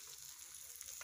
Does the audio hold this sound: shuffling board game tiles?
no